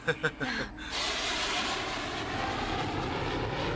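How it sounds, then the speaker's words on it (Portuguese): Bombardier CRJ regional jet engines on a runway ahead, ready for takeoff: a few brief breathy bursts give way to a steady, loud broadband jet roar that holds evenly throughout, with no speech. "Na pista à frente deles está um Bombardier CRJ pronto para decolar."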